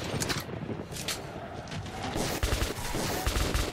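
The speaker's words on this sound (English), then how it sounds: "Oh no, I'm shooting him." Rapid gunfire in the first-person shooter Metro 2033 Redux as a mutant is shot, dense bursts of shots crackling almost without pause, loud and close over a noisy game backdrop.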